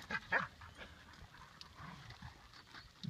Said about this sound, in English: It's something about Gracie with another dog barking.